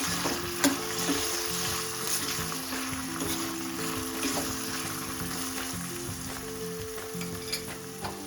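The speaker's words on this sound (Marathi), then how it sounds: "आपण थोडंसं याला तेलामध्ये अगदी व्यवस्थित असं भाजून घ्यायचंय." Lima beans roasting in hot oil with garlic and curry leaves in a home kitchen, a steady close sizzle and crackle with occasional stirring scrapes, no talking.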